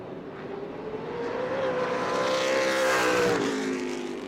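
A super late model race car engine roars steadily close by at New Smyrna, its pitch climbing as it accelerates off turn four and then dropping off near the end, with no voices.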